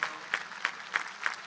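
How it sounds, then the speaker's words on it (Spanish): Faint applause at a graduation ceremony, with a few sharper claps standing out at a steady beat over a soft wash of clapping. "Y un aplauso para ella, por supuesto."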